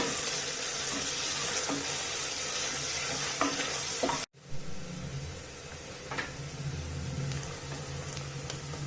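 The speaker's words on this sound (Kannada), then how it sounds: "ಈರುಳ್ಳಿ ಗೋಲ್ಡನ್ ಬ್ರೌನ್ ಆಗೋವರೆಗೂ ಹುರ್ಕೋಬೇಕು" Chopped onions fry in oil until golden brown in a pressure cooker for tomato rice, a steady dense sizzle with occasional utensil clinks and a brief cut out midway, no voices.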